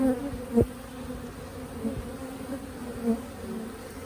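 Dense, steady buzzing of many honey bees close by in a hive, with a few louder passes as individual insects fly near.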